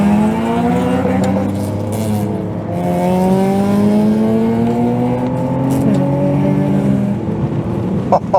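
A BMW 5 Series engine accelerating hard through the gears, its rising drone climbing in pitch, dropping at each shift and climbing again, loud and close from inside the car.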